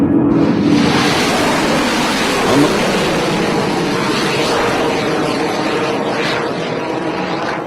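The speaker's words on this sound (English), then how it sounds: "10, 9, 8, 7, 6, 5, 4, 3, 2, 1. We have ignition." A rocket launch ignition bursts into a loud, continuous roar that thunders on for several seconds, broad and rumbling with no pauses.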